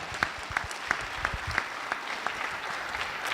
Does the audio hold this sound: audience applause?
yes